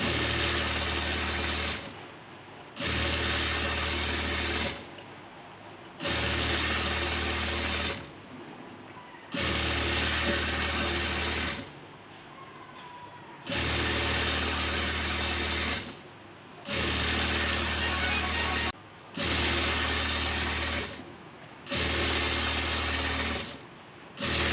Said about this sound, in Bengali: এখন এটার মাঝখানে আরও দুটো সেলাই দিয়ে দেব